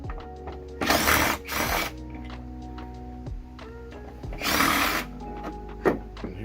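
Power tool bursts and ratcheting clicks as a hinge is taken off the tire carrier of a 2020 Jeep Wrangler JLU Sahara, with metallic clanks and rattles between three short, loud drill runs.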